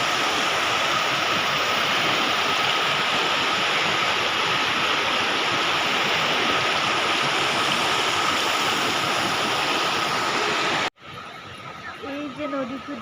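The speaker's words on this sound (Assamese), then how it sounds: "এই নদীটোৰ নাম হৈছে দামোদৰ নদী।" Steady loud rush of the Damodar river flowing near a temple site in Jharkhand, a continuous broadband roar that cuts off abruptly near the end, leaving quieter ambience.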